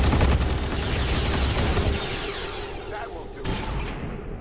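Squad gunfire in the tactical video game XCOM 2: Long War 2, a dense, loud burst of rapid shots and booms that fades after a couple of seconds, followed by a single sharp report near the end.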